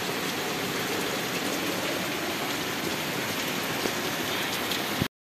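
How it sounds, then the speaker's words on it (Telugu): Heavy rain pours steadily in a dense, unbroken roar over a field, with no voices, before cutting off abruptly. "మళ్ళీ ఇప్పుడు ఫుల్ వర్షం"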